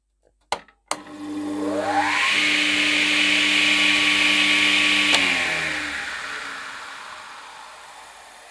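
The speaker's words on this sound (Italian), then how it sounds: "Vi faccio sentire almeno il motore, com'è l'avvio graduale." A Scheppach HA1000 dust extractor motor spins up gradually after a couple of clicks, its whine rising in pitch to a steady hum, then slowly winds down and fades.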